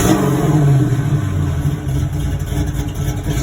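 A Toyota with a swapped-in V8 revs through its aftermarket exhaust, a loud, close, deep engine roar that swells early then settles into a rough, throbbing idle with small blips, no talking.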